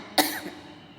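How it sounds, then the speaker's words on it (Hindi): A woman gives a single close, sharp cough with a short echoing tail, alone in a quiet room. "खांसी आ रही है।"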